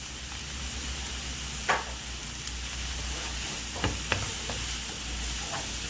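Cabbage and shredded carrots saute quietly in a pan with salt and pepper, a steady low sizzle under a few sharp stirring scrapes and knocks.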